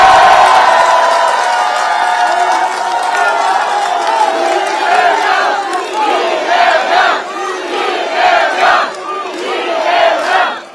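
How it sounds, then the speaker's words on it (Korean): A Korean political audience cheers and shouts loudly, a crowd's roar of whoops and calls that swells and falls in waves over several seconds before fading at the end, with some clapping mixed in. "박수 좀 크게 쳐주세요."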